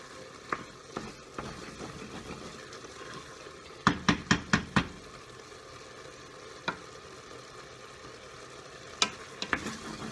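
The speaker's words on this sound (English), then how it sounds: "Keep stirring, don't let anything burn, don't let anything stick." Pasta with peas stirred in a pot, a soft simmering hiss broken by sharp spoon clacks against the pot, one quick cluster of knocks midway and a few scattered taps later.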